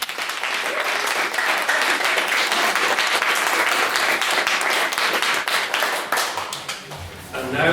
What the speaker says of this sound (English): I'd like to propose a further round of applause for that maiden speech.